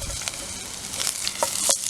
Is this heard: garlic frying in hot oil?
yes